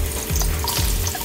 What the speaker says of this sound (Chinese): 油热了以后呢我们就放上南姜